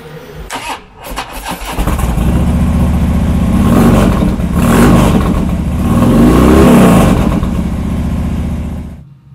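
A 2017 Harley-Davidson FXDB Dyna Street Bob motorcycle starts up and revs loudly and close by, its engine rumbling in rising and falling swells with no voices.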